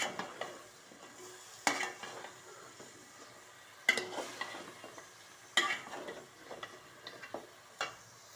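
A curry cooks in a pan with a soft, steady sizzle under quiet, periodic scrapes and clinks of a spoon stirring against the metal, spaced a couple of seconds apart.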